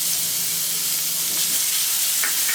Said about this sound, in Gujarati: પહેલાં આપણે ઓનિયનને સાંતળી લઈએ.